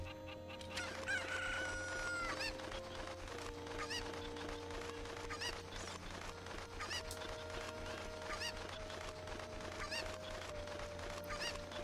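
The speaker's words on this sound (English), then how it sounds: "I hear chicken" Cuccos from the video game Zelda: Ocarina of Time on GameCube cluck and crow repeatedly over looping game music, the bird calls recurring throughout at a moderate, steady level.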